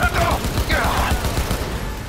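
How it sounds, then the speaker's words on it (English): Cyberpunk 2077 gunfire: a quick cluster of sharp shots cracks out in the first second, loud and close, then fades into a rumbling mix of game noise. "I'm going to use my sniper rifle"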